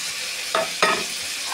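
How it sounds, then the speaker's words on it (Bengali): Fish frying in a pan gives a steady, close crackling sizzle, broken by two short bursts of stirring or scraping in the pan, with no voices. "এখানে হচ্ছে মাছ ভাজা। এই যে মাছ ভাজা"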